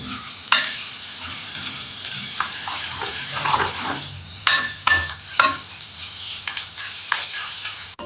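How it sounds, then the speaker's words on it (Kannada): Curry leaves fry in a pan with ginger-garlic paste, crackling and sputtering under repeated scraping strokes of a spoon, close and fairly loud with sharper pops now and then. "ಇದೇ ಸಮಯದಲ್ಲಿ ನಾನು ಸ್ವಲ್ಪ ಕರ್ಬೇವು ಸೊಪ್ಪನ್ನು ಹಾಕಿ ಫ್ರೈ ಮಾಡ್ಕೊಳ್ತೀನಿ"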